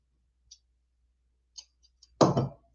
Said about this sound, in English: So we'll cut a little piece of that.